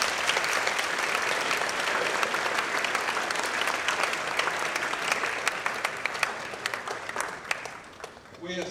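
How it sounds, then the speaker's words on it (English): Students at a high school ribbon-cutting ceremony clap steadily for several seconds, a dense crowd applause that fades slightly toward the end. "give yourselves a round of applause"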